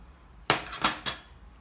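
A spoon clinking against a bowl three times while adding a spoonful of an ingredient to a cooked fig and apple fruit dessert, short bright taps close by in an otherwise quiet room.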